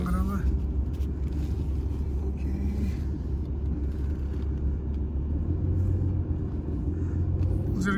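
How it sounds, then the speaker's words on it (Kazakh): A truck backs up on a rough, unpaved spot, giving a low, steady engine rumble close by, with a voice talking over it and a few brief higher squeaks. "Азыр эми трак аркага берели."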